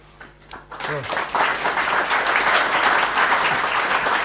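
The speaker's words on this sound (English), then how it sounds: "They're applauding and they haven't heard you yet." A live audience applauds before a guitar performance at a Martin Guitar showcase, the clapping swelling after a quiet start into steady, dense applause that fills the room.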